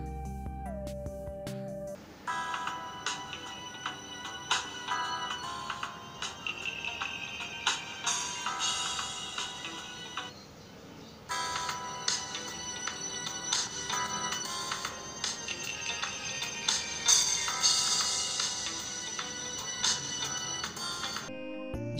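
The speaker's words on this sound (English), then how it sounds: "so let's see the sound of both phones." Ringtone melodies played in turn through the rear-facing speakers of Qmobile Noir J7 and LT700 Pro phones, bright and tinny, steady and loud for about twenty seconds with a short gap as one phone stops and the other starts.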